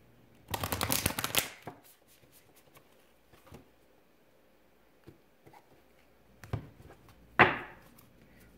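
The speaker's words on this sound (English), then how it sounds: "let's shuffle those cards again" Tarot cards being shuffled close up: a dense, crisp riffling burst of about a second, followed by scattered soft taps and handling sounds, then another brief shuffle and a sharp final flick.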